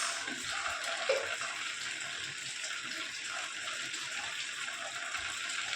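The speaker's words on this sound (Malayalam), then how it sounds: "പാത്രം കഴുകാണ് കൈസ്" Steady running water pours continuously, like a tap flowing into a sink while dishes are washed, with no voices.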